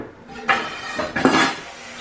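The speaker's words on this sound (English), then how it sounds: "I'm gonna bring my bowl over" A mixing bowl shifted across a kitchen counter, giving a few scraping, clinking knocks at irregular intervals, close and fairly loud, with no talking.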